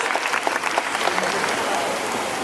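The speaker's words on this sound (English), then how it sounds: "How about a loud round of applause for her?" An audience at a show gives a performer a round of applause, a fairly loud burst of many hands clapping with crisp individual claps near the start, then a steady, slightly softer patter.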